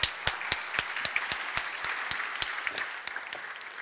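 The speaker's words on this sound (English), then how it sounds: "Give her a warm applause" A small audience applauds a speaker at a talk, sparse distinct hand claps with gaps between them, fairly close and moderate in level, slowly thinning out toward the end.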